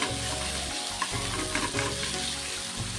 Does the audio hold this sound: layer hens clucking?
no